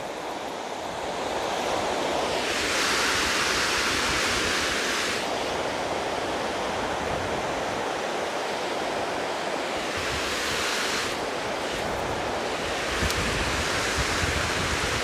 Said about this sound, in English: it's actually quite beautiful to see the water pouring out of the lava, like coming out of nowhere